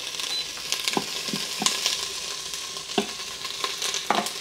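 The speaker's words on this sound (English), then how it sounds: "I'm going to cook that for about 2 to 3 minutes until the onion starts to become a little bit more translucent." Onion sizzles gently in a pressure cooker on sauté mode, with a soft steady frying hiss broken by scattered close stirring clicks and taps, no voices.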